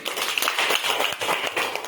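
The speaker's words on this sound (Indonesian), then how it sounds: "Tepuk tangan dulu." A classroom group claps briefly and irregularly during a religious lesson, quick uneven hand claps at moderate volume over a couple of seconds, with a murmur of voices underneath.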